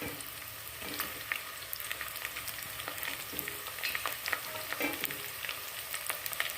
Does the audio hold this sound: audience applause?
no